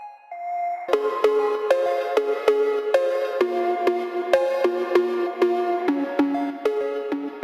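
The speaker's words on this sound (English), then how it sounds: "And let's bring in that 808 cowbell once again." An 808 cowbell in a phonk track built in Ableton Live 11, playing a bright, metallic pitched pattern of repeated hits in a steady rhythm, loud and alone after a brief soft intro.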